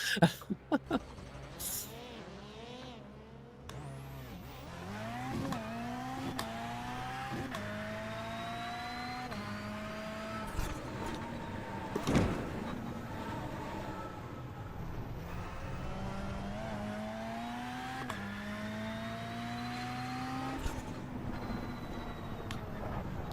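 A race car in iRacing, a rookie race, revs and shifts repeatedly with rising engine whines cut by gear changes, loud and continuous throughout, with a voice faintly under it at times.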